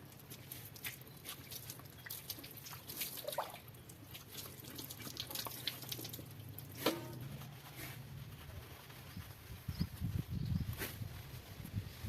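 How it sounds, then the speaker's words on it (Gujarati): Hot water splashes and drips steadily while an animal is being bathed at home, a soft running-and-dripping wash with occasional louder splashes and faint shuffling footsteps. "હવે બસ એને નવરાવાની છે હા ગરમ પાણી છે"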